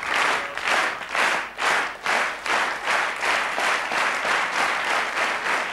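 Crowd applause for a sprinter at a 1995 athletics event, a large stadium audience clapping in rhythmic, pulsing waves that rise and fall about once a second, loud and continuous.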